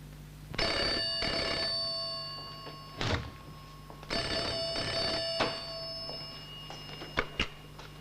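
An old landline telephone bell rings in bursts in a 1960s drama scene, two long rings then shorter clangs, with a door thunk and a receiver being picked up at the end.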